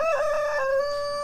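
A rooster on a homestead crows once, loud and close, a drawn-out cock-a-doodle-doo with a rising then held tone against a quiet background.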